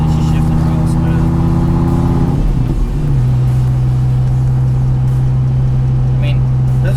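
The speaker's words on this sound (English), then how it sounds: "The differential definitely is sounding smoother. I can't hear as much mechanical." A Dodge Viper drives along after a differential and transmission fluid change, its engine a loud steady drone inside the cabin that drops in pitch with a gear shift, while someone talks over it.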